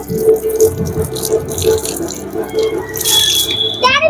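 Water flowing from an outdoor village hand pump, a steady splashing pour with metallic rattles and clanks, close and fairly loud amid background noise.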